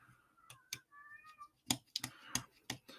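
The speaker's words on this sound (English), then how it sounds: "I am going to go let my kitten in real fast because she's just going to cry at the door." A kitten crying at a door gives a few thin meows, mixed with sharp clicking taps from a computer keyboard nearby, all fairly faint and close.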